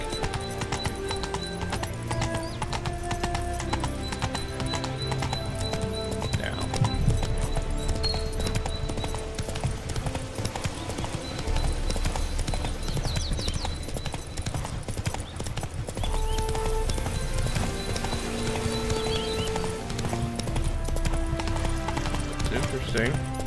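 Hooves clip-clop steadily as a horse gallops in The Witcher 3: Hearts of Stone, continuous and fairly close under loud game music, with someone speaking over it.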